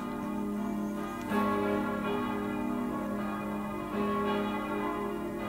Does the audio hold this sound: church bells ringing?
yes